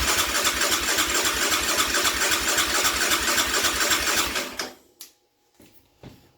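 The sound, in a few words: Yamaha Raptor 700 ATV engine cranking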